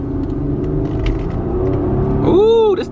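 A 2020 Infiniti QX60 SUV engine revs up loud and close, with a rising, strained drone swelling near the end under a steady road rumble.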